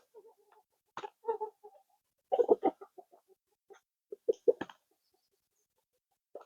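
Several chickens cluck in short, scattered bursts while crowding around treats, the calls close and moderately loud with quiet gaps between them.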